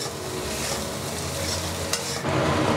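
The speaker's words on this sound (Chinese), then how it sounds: "再加入蒜末、梅菜干，先把梅菜干跟蒜末呢给它炒香" Dried preserved mustard greens and minced garlic stir-fry in a hot wok, a continuous sizzle with scraping stirs, loud and close, with no speech.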